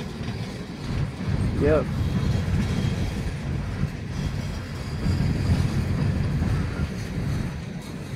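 An empty Norfolk Southern coal train hauled by SD40-2 locomotives rumbles past close by with steady rolling noise and faint clickety-clack, while a person briefly speaks over it.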